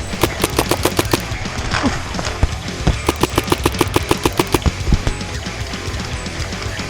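Paintball guns fire cover fire during an outdoor skirmish game, with rapid bursts of sharp, close pops in quick rhythmic strings, pausing briefly and then resuming, while more distant shots crackle in the background.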